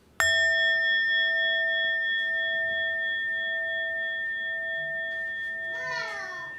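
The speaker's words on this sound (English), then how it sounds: "I'll invite one sound of the bell to begin the meditation" A meditation bell struck once, ringing out with a clear sustained tone that fades slowly over several seconds in a quiet room, with a faint rustle near the end.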